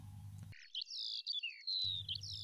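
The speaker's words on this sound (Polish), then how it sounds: "Nad Miedznem usłyszymy też klangor żurawi, które w parku występują dość licznie." Common cranes in a park call out in a long ringing bugling phrase, several overlapping trumpeting notes lasting over a second, clear against a low background rumble.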